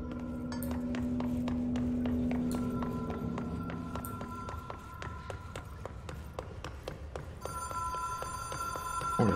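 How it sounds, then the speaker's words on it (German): A telephone bell rings repeatedly inside the video game Control, bright metallic rings recurring over a sustained tone, with footstep-like ticks and a brief electronic chime later on. "Oh, das Telefon klingelt."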